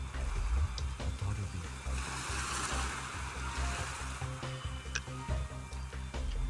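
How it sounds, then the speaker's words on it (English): Ocean waves wash steadily in the Remember11 video game, a continuous broad rushing surf at moderate level with low rumble underneath and a few faint clicks, no voices. "The sound of the waves vanished."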